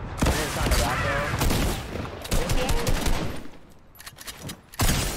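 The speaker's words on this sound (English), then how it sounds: "I'm going to rocket him out of his builds." Rocket launcher fire and explosions in the Fortnite battle royale video game, a dense, loud barrage of blasts and gunfire crowding the whole stretch, easing briefly near the end before another hit.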